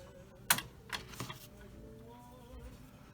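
Parts of a Tamiya 1/35 Sdkfz 250/3 Greif plastic model kit are snipped off the sprue, giving a few sharp, quiet clicks close by, the loudest near the start, over a faint background.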